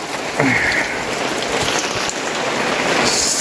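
Steady rain falls outdoors beside a house on a small home farm, a continuous close, even hiss of drops pattering on surfaces with no voices.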